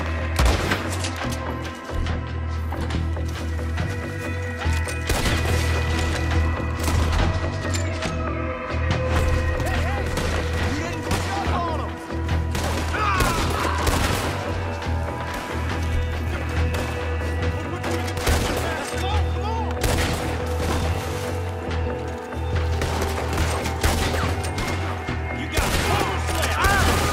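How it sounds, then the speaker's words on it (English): A Gatling gun fires in the video game Red Dead Redemption 2, with dense rapid bursts of gunfire and booming impacts filling a long, loud stretch of frantic shooting. "Gatling!"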